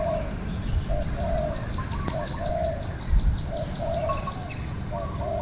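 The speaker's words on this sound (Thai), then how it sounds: "นกเสียงเล็กครับ" Soft repeated cooing from a dove in a steady rhythm, with small birds chirping higher up against a quiet outdoor background.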